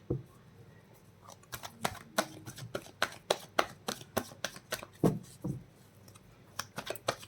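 Tarot cards being shuffled for a reading: a steady run of sharp riffling snaps and flutters at close range, irregular bursts repeating for several seconds with no talking.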